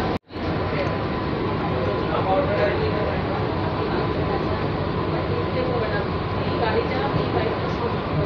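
A local train passes alongside an air-conditioned commuter train, heard from inside as a steady, loud, unbroken rail rumble and rattle.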